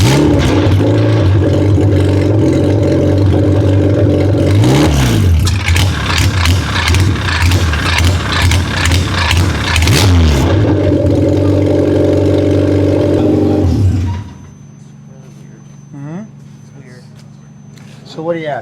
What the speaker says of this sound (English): Okay, now if I turn the engine on,